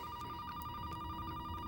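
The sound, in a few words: telephone ringing in a TV episode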